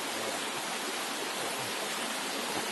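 Creek water at the Bluff Creek film site in a forest, a loud continuous rushing flow that fills the whole clip with dense broadband hiss and no voices.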